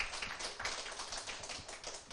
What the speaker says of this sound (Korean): 크게 박수로 맞아주세요